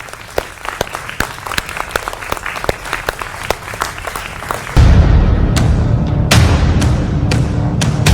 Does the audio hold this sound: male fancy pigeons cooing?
no